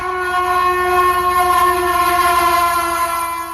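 A train sounds a loud, sustained horn at a railway station, a steady multi-tone blast held throughout with faint rhythmic rumble beneath.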